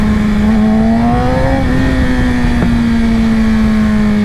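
A 2020 Yamaha R6 sport bike with a LeoVince Factory S exhaust revs loud and close, its pitch climbing, then holding a steady high drone, with a sharp pop near the middle.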